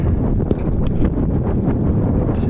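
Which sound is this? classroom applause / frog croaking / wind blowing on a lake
wind blowing on a lake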